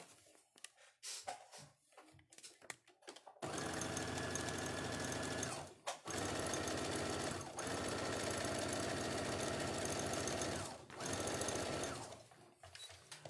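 A sewing machine topstitching fabric for a handmade doll runs in long, steady bursts, loud and close, broken by short stops, with fabric handling noises before it starts.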